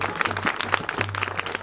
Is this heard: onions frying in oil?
no